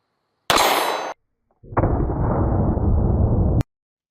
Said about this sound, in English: si ese cuchillo también puede disparar